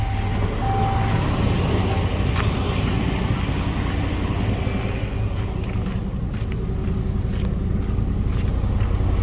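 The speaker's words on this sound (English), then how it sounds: "so the truck has to be running." A Ram 3500 service truck's engine idles steadily up close, a loud continuous low rumble with a faint whine on top and occasional small clicks, no talking.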